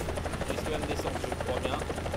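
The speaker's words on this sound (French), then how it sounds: "Donc là c'est mon hélico." Helicopter in the War Thunder combat game, flying at around 220 km/h, with a steady rotor drone running throughout while someone talks over it.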